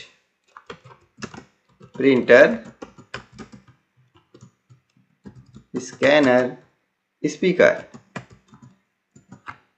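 Computer keyboard typing as item entries are made in an MS Excel spreadsheet: scattered crisp key clicks run throughout, close and clear, while someone speaks over them in bursts.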